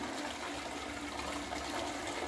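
A Toto toilet in a bathroom flushes with a steady, dense rush of water that gushes evenly for a couple of seconds at moderate volume, with no voices.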